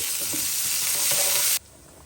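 Frozen onion and a few whole garlic cloves frying in hot oil, a steady close sizzle that cuts off abruptly near the end.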